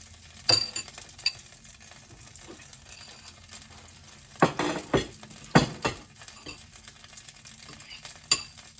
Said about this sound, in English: I'm going to put it back in the frying pan and make gravy to it